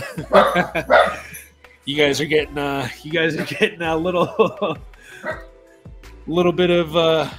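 Several dogs bark and woof in the background of a room, their barks brief and intermittent beneath a person talking steadily in the foreground.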